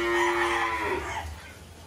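Limousin cross Belgian Blue cattle in a barn in Kediri, East Java, give a single loud, drawn-out moo that fades over about a second, leaving faint barn noise.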